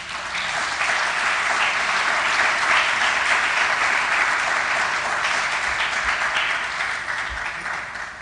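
A lecture audience breaks into applause for civil society organizations and advocacy stakeholders at a public health science lecture, with dense, continuous clapping from a sizable crowd at an even level for the whole stretch.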